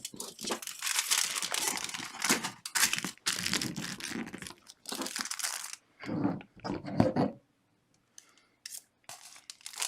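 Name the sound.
scissors cutting aluminum foil to sharpen them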